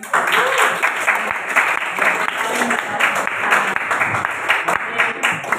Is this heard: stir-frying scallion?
no